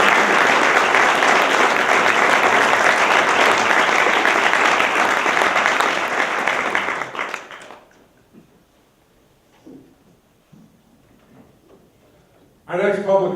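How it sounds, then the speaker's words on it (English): A large audience at an award ceremony claps loudly and steadily for about seven seconds, then the applause dies away into near silence before a voice begins speaking. "Let's give them a round of applause."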